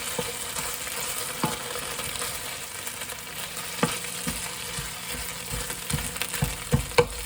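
Jar curry sauce sizzles in a hot pan while a spoon stirs it, giving a steady frying hiss broken by scattered scrapes and clicks that get busier toward the end, with no talking.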